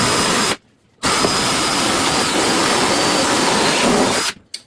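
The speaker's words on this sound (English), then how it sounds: "we have to drill again on this side" A power drill bores through wood with a loud, steady whirring grind, stopping briefly near the start before running continuously again and winding down at the end.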